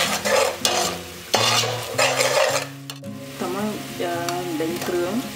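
Pork ribs stir-fry with coconut cream in a hot pan, giving a loud sizzle under repeated scraping and clanking stir strokes. A musical tone runs through the background.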